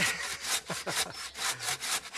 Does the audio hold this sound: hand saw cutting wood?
yes